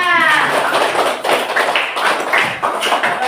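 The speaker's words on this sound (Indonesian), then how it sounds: "Tepuk tangan semuanya." A school class claps together in a classroom in a steady, dense round of applause at close range, sustained for several seconds without a break.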